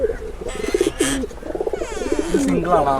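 Pigeons coo in a loft holding several pairs and single birds, with repeated low, rolling coos close by over a steady bed of ambient noise, some brief higher chirps mixed in.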